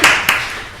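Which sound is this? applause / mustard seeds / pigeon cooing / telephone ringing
applause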